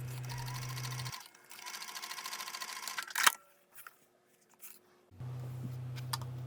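A domestic sewing machine top-stitches the folded top edge of a bag pocket with a 1/8 inch seam, running in steady rapid bursts loud and close, pausing briefly with small handling clicks before stitching again.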